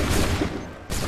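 A volley of muskets fired together in Assassin's Creed 3 Remastered, a loud, dense roar of overlapping shots that fills the moment, with a brief dip before a second burst.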